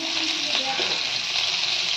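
Fish frying in a pan at home, with a steady, close, bright sizzle and hiss that runs unbroken throughout.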